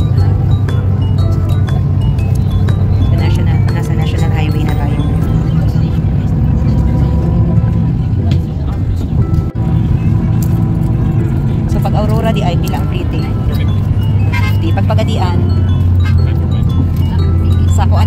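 Steady low rumble of a long-distance bus ride from Cagayan de Oro to Pagadian, heard from inside the cabin, with continuous engine drone, faint rattles and clinks, and people talking in the background throughout.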